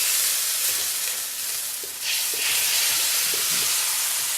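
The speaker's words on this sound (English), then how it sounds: "Go ahead and put our sauce in." Sauce hits chicken in a hot wok during a chicken and broccoli stir-fry, giving a steady loud sizzle and hiss with faint stirring clicks underneath, no voices.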